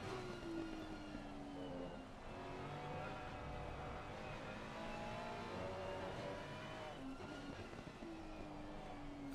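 Race cars in Assetto Corsa Competizione lapping the wet Nürburgring in a sprint race, engines droning and shifting continuously at close range with rising and falling revs, steady and loud throughout.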